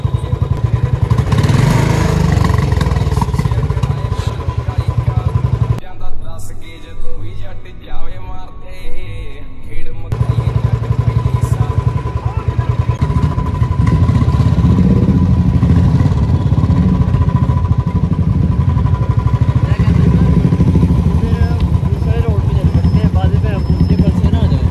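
A motorcycle engine runs close by, giving a steady loud rumble. It fades into quieter clattering for a few seconds in the middle, then returns, with voices over it.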